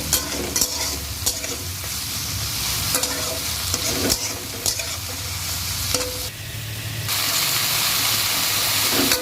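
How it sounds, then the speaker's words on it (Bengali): Close, continuous sizzling of onion, chili, eggplant and potato frying in a pan, broken by regular scraping stirs of a spoon; the hiss swells louder and brighter in the last few seconds. "এবারে দিয়ে এগুলো একটু ভাজা ভাজা করে নেব"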